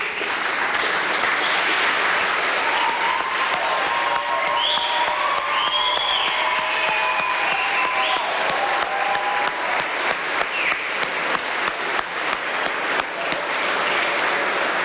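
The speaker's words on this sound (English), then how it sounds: "give your family a round of applause" A crowd at a police academy graduation ceremony applauds steadily, dense clapping with light cheering and whistles carrying on without pause for the full duration.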